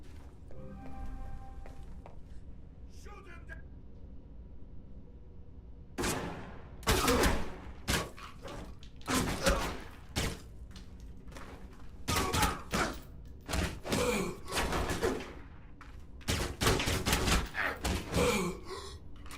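Gunfire in the mobile shooter Destiny: Rising, heard as repeated loud sharp bursts of blind-fired shots in clusters after a quieter opening stretch with faint game tones.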